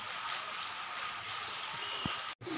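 Rain falls steadily in Odisha as water runs along the roads, a soft, even wash of noise with a brief knock near the end and no voices.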